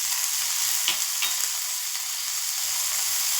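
Chopped ginger, green chili and coriander leaves sizzle in hot oil for idli chutney, making a steady, fairly loud frying hiss with a few brief stirring taps.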